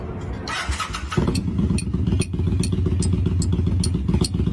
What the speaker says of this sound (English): thinking that there's something clicking on his motorcycle.